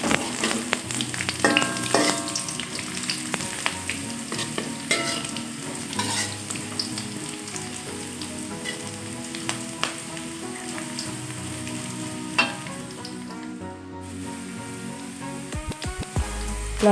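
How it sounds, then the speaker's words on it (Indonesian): Garlic is sautéed and stirred in a pan while cooking a green chili tripe stir-fry, giving a continuous close sizzle with scraping and clinking of the spatula throughout. "Setelah harum kita masukkan bawang putih, kita tumis lagi."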